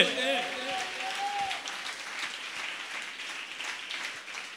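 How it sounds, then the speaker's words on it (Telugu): Congregation applauding at a Sunday worship service in a church in Challapalli, a dense burst of clapping that swells and carries on under a preacher's voice. "స్తోత్రం కొట్టండి గట్టిగా చప్పట్లు కొట్టే"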